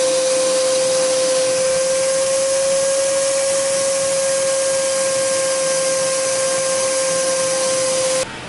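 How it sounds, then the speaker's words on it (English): A vacuum cleaner cleans out a boat bilge, running with a steady, high-pitched motor whine and airy hiss for several seconds, then cuts off abruptly near the end. "we're gonna vacuum out the dungeon"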